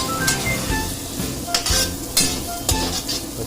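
Upma ingredients sizzling in hot oil in a pan while a spoon stirs and scrapes repeatedly, with steady frying crackle and rhythmic metallic clinks.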